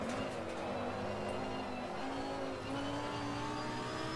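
A rear-engine race car in Assetto Corsa Competizione at high speed in third gear: a loud, continuous engine whine with shifting pitch, holding steady at around 100 to 120 km/h, with faint tyre noise beneath.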